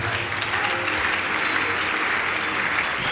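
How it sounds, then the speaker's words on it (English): Church congregation clapping hard and continuously, a dense, loud wash of many hands with no breaks throughout. "Clap for Jesus."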